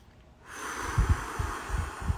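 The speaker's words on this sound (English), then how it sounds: "breathing in through the nose and out through the mouth" A man sitting in an ice bath breathes methodically, with several close, soft bursts of breath at an uneven rhythm against a steady background hiss.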